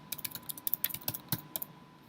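Computer keyboard typing, quick irregular clicks and clacks of keys at close range in a quiet room, with no voices.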